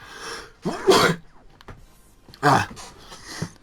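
A person sneezes or clears their throat in two sharp, close bursts about a second and a half apart, with a smaller breathy sound at the end and no talking.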